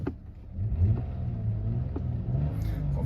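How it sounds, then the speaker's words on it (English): Up close, a Lexus GS automatic with 175,000 miles runs at a steady low idle, its rumble broken by soft periodic puffs from a very small blow in one rear exhaust. Nobody speaks. "got a very, very tiny blow from one of the exhausts at the back"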